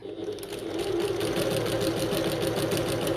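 A home sewing machine back stitching along a bucket tote seam gives a steady, rapid mechanical whir with a fast repeating tick. It runs close and fairly loud, with no voices.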